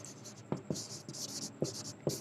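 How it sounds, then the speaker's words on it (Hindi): A marker or chalk scratches across a teaching board as words are written out, a series of short scratchy strokes with small taps in an irregular rhythm, close and fairly quiet. "जैसे मैंने लिख दिया शिल्पा,"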